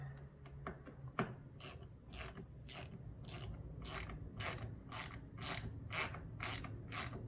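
A ratcheting tool drives in a window belt molding fastener on a 2003–2009 Lexus GX470, with a rapid run of evenly spaced sharp ratchet clicks, close and clear, and a few quieter knocks at the start.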